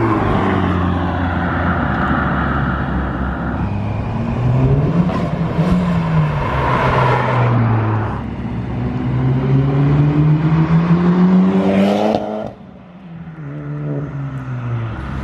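A Honda Civic Type R fitted with an Invidia 3-inch exhaust drones loudly and steadily up close, pitch climbing and falling through several revs before dropping back to a lower idle near the end.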